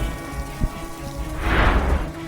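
Heavy monsoon rain pours in a steady broadband hiss in Kodinar, Gujarat, with water flooding the road, a low rumble and a swelling surge of noise near the end.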